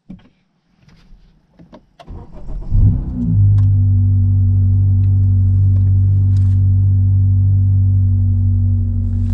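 A 2019 Honda Civic Sport's K20C2 engine with a KTuner tune cranks and catches after a few quiet clicks and shuffles, then settles into a loud, steady, close idle rumble.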